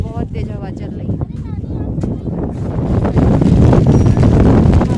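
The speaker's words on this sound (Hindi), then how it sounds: "बहुत तेज हवा चल रही है।" Strong, gusty wind roars and buffets the microphone at Rohtang Pass under dark clouds before rain, a continuous rushing that swells louder toward the end while a person talks over it.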